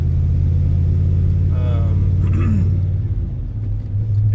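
A 2000 Dodge Ram quad cab 4x4 pickup with a five-speed, originally a 318, drones with a steady low engine rumble while cruising a twisty road, with a brief tonal squeal partway through and the load easing slightly toward the end.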